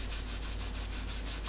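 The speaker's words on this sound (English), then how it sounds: "the green on the other side actually rubs the clay away a bit better" A green scrubbing pad rubs steadily across the surface of a clay pot in a shellac resist process, giving a continuous, close, dry abrasive scraping with slight rhythmic strokes and no talk.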